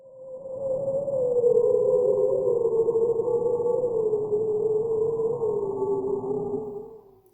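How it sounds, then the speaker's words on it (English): A bearded seal gives one long, warbling call that slowly glides downward, steady and loud for several seconds before fading, heard alone with no other sounds. "That sound is made by a bearded seal."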